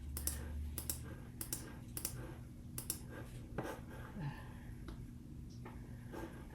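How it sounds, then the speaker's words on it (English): Computer mouse clicks while selecting items in design software: scattered sharp clicks, some in quick pairs, spaced irregularly over a low steady hum with no talking. "Just by clicking on them."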